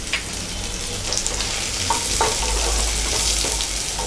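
Black pepper and cumin seeds frying in hot oil in a pan for a prawn pepper masala, a steady close sizzle with occasional stirring scrapes and small pops, no voices.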